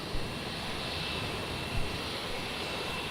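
Wamos Air Airbus A330 jet airliner, wet-leased for Garuda Indonesia, departing Melbourne Airport for Manila: a steady, fairly faint broadband engine roar heard from a distance, holding level throughout.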